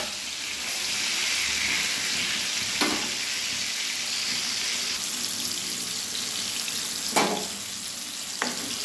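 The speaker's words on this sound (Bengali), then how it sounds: "আমি কুমড়োগুলো ভেজে নিচ্ছি।" Pumpkin pieces fry in a pan over a medium gas flame, a continuous close hissing sizzle with a few brief spoon knocks and scrapes breaking through it.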